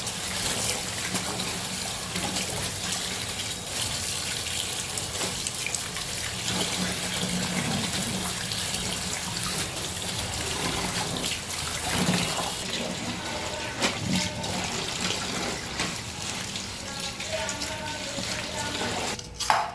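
Running tap water over two bundles of taro leaves being rinsed several times in a kitchen sink, a steady broadband splashing stream throughout with faint handling noises and no talk.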